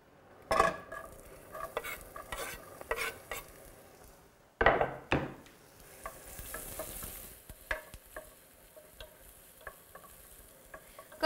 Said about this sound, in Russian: В этот момент я добавляю лук